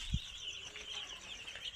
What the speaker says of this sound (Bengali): এগুলো হচ্ছে আমাদের মুরগি।